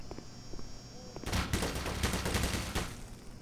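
Automated turret fire in Black Mesa: a quiet background hum gives way to a rapid rattling burst of shots lasting a couple of seconds, moderately distant and fairly faint.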